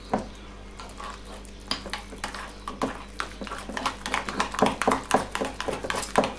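Metal spoon stirring a lemon cheesecake mixture in a bowl, giving repeated scraping and clinking strokes that grow louder and busier toward the end, with no voices.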